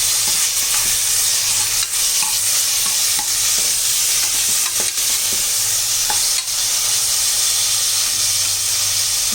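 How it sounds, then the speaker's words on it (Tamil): Ingredients for mutton chest-bone soup lightly sautéing in a pan, a loud steady sizzle and hiss with scattered scraping stir strokes, no talk. "இப்போ இதை கொஞ்சம் நம்ம லைட்டாக வதக்கிடலாம்."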